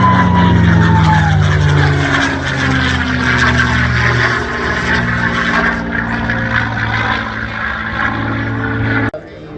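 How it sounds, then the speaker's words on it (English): A North American P-51 Mustang warplane passes at an air show in Debert, its piston engine a loud, steady drone with a slowly shifting pitch, dominating throughout before cutting off abruptly near the end. "The Mustang known as Swamp Fox, around for another pass from our right."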